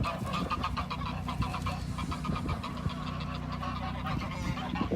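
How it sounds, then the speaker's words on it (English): Geese honk loudly and repeatedly in a noisy flock, overlapping calls coming in rapid bursts close by. "But the geese are very loud."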